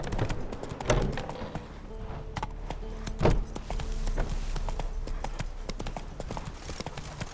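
Roach the horse's hooves clip-clop in a steady, close trot through a Witcher 3 game world, two louder thuds standing out against a continuous ambient bed.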